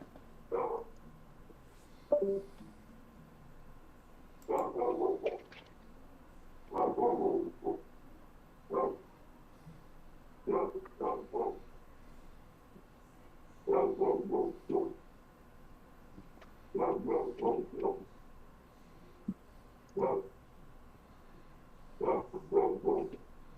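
A dog in a home barks and grumbles in repeated short bursts and clusters, moderately close, with quiet gaps between volleys and no talking.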